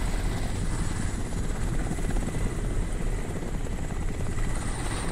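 A helicopter in the video game Crysis, a loud continuous rotor chop and engine drone filling the scene without letup.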